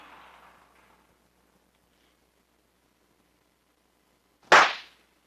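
A firecracker explosion slowed down 1,200 times, a single loud drawn-out blast that swells and fades over about half a second after near silence, with a faint hiss at the start.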